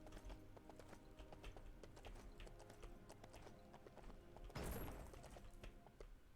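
Horse galloping in the LEGO Lord of the Rings video game, a steady rapid clip-clop of hooves running throughout at moderate loudness, with a brief burst of noise near the end.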